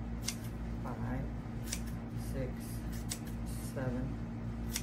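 Scissors snip paper for a giant anemone craft, several sharp close cuts spaced irregularly over a faint steady hum while a person counts aloud.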